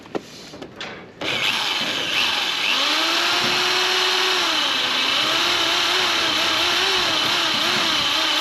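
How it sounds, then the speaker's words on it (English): A power drill drilling through a polycarbonate window, whirring steadily and loudly for several seconds after a couple of brief knocks, its pitch wavering slightly as it bites. "time to drill"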